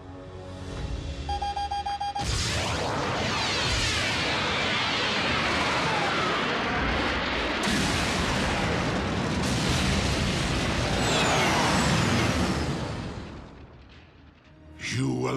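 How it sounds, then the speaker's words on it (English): Three tons of Energon explode in Transformers: Prime, a cartoon blast that bursts in after a short tonal lead-in and rolls on as a loud, sustained roar for about twelve seconds before dying away. "Just in case you ever wondered what 3 tons of exploding Energon sounds like"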